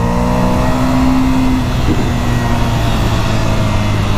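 A 2017 Ducati Scrambler motorcycle pulling away after a quick clutch pop, its engine a loud, close, steady drone with strong tonal hum throughout.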